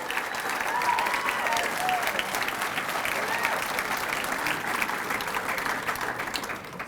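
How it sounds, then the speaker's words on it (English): Sustained applause from the audience at a university athletic Hall of Fame ceremony, a broad steady roar of many hands clapping that holds for several seconds before easing slightly at the end. "one final applause for the 30th class of our Indiana State Athletic Hall of Fame"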